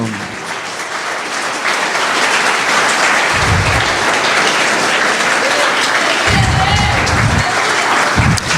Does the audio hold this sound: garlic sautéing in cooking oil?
no